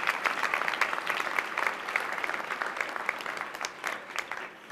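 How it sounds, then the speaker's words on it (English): Applause at a commencement ceremony: a large audience claps steadily, dense and sustained, slowly thinning out toward the end. "Let's give them one more round of applause."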